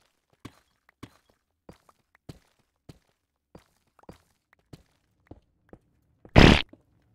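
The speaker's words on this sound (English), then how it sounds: "Thank you for the fart sound" A series of short, sharp farting pops sounding at uneven intervals, followed by one longer, louder blast near the end, used as a sound effect in a Minecraft GorillaSMP session.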